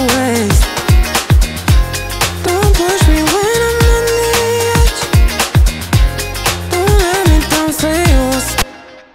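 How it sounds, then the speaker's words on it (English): Guitars treated with the chorus effect of the Waves Space Rider plug-in play a dense, loud, continuous mix with a shimmering, wavering tone and plucked notes throughout. "when a chorus is on and the sound isn't on, you can kind of hear this effect that can kind of cloud up the mix"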